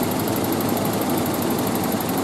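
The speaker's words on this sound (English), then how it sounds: "AC cut back on." 1989-1995 Toyota Pickup engine idling steadily with the A/C compressor running after cutting back on, a constant droning hum with a faint rapid high ticking.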